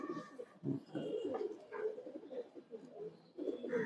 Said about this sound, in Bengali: এই যে কবুতরটা এটা কালো গোলা আর পাঙ্খি দিয়ে ক্রস করা কবুতর